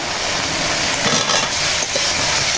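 Fried pointed gourd koftas being sautéed in spice paste in a pan, giving a loud, steady oily sizzle with scraping stirs.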